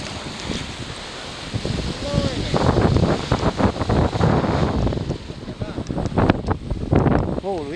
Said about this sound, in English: These waves out the back are fantastic.